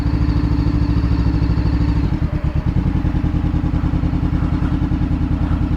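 Harley-Davidson motorcycles idle at a Chrysler car show, a loud, close, lumpy engine throb that pulses steadily throughout, with a brief rev and shift in rhythm partway through.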